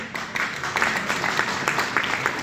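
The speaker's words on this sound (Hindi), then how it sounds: "मैं चाहूंगा जोरदार तालियां सर के लिए" Applause from an audience at a Lucknow gathering, honouring a guest named Devendra Gupta; steady, dense clapping that fills the room for a few seconds at moderate loudness, with a faint murmur of voices mixed in.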